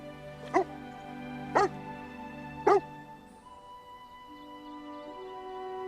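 A dog gives three short, sharp yelping barks about a second apart, then drops to a faint, drawn-out whimpering whine at a moderate distance.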